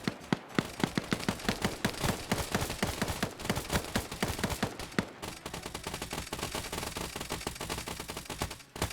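Dense, rapid gunfire from many weapons at once in a ship-boarding video game battle, with sharp rhythmic bursts stacking into a constant roar, loud and close, then thinning into steadier rattling fire near the end.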